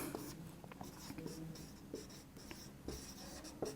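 Chalk or marker strokes scratch across a classroom board during a Class 10 biology lesson on the human excretory system, with quick taps and scrapes coming close and clear and no talking.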